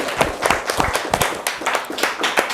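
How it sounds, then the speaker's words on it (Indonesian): A classroom of students claps in dense, continuous applause, many hands beating unevenly at close range for a couple of seconds with no talk. "Tepuk tangan buat Ojan dan buat semuanya."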